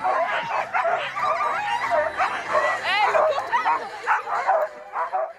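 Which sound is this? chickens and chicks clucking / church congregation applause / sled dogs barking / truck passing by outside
sled dogs barking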